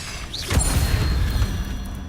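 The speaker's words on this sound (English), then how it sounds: "Shout out to this Incendio spell." The Incendio fire spell in Hogwarts Legacy erupts with a loud, rumbling whoosh of flame and a low booming body, sustained for about a second and a half before trailing off, with no talk over it.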